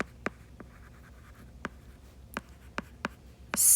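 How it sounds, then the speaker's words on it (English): Pen strokes scratching on paper, several short separate taps and scrawls spread unevenly, close and fairly quiet with no talking. "I'm going to write it down here."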